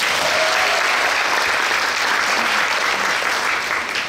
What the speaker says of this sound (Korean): 예, 박수 주셨습니다.